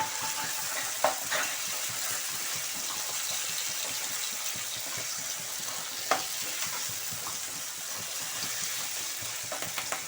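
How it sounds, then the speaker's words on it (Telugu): Chopped green chillies and tomatoes fry in a pan with a constant soft sizzle and occasional spoon stirs and scrapes. The sound is close and fairly quiet, with no talking. "పచ్చిమిర్చి, రెండు టమాటా కూడా సన్నగా తరిగి పెట్టుకుని ఇవి కూడా వేసుకుంటాము."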